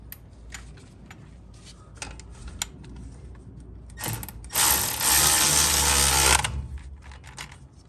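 A ratchet tightening bolts on a 2WD Ford Ranger during a lift install, with scattered clicks and taps, then a loud, close burst of rapid ratcheting for a couple of seconds before quieter clicks resume.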